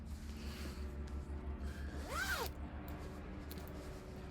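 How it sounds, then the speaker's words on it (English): A zipper is drawn once on a lined fabric project bag, a brief rising-and-falling rasp up close, set against a steady low hum from a distant aircraft. "But I bought the zippers, the Lori Holt zippers."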